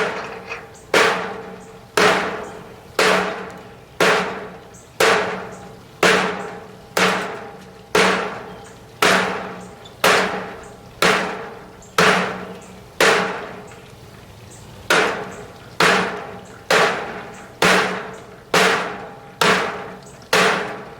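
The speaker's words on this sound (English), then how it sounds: "Tack on this piece of composite decking, pretty dense stuff," A wakizashi sword blade chops into dense composite decking in about twenty sharp, evenly spaced strikes, each a loud crack with a short ringing decay, close and without speech.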